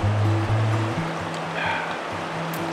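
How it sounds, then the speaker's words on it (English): A river flows right beside a campsite along Canada's Icefields Parkway, giving a loud, steady, close rushing of water with a low droning hum underneath. "I know the river is right here flowing literally right in front of us"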